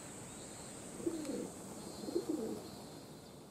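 Pigeons cooing softly while coming down after a flight on a humid summer evening, two low, throaty coos about a second apart, faint against a quiet outdoor background hiss.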